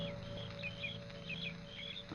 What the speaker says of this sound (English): The sound of birds and crickets seemed loud in my ears